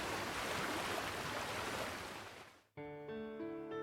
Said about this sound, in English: The ship was cutting through the gentle waves, sailing further into the Pacific.